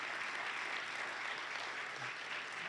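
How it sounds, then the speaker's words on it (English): An audience at an evening community mental health gathering hosted by a congregation gives a round of applause for a reverend: continuous, even clapping from many hands throughout, with no voices over it. "Let's give Reverend Turner a big round of applause, if we could."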